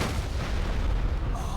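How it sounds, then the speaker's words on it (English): A deep, booming explosion in the video game Enderal, a Skyrim mod, rolls as a loud, sustained low rumble through the whole moment with no talking. "That was an explosion."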